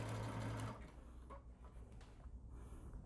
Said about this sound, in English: tension the neoprene so you can stitch it correctly